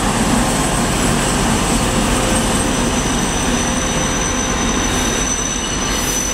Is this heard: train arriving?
yes